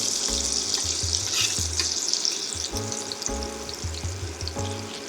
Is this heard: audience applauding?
no